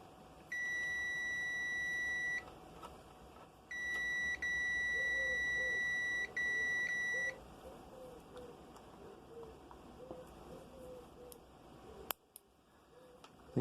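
A multimeter in continuity mode gives steady high-pitched tones, one long beep, then two more broken by brief gaps, while a fuse is tested on 18650 battery modules.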